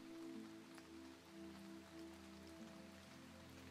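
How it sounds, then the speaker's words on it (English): Steady gentle rain falls through a forest canopy in a sleep meditation soundscape, a soft continuous patter with a low steady hum underneath and no voices. "The rain gets heavier now"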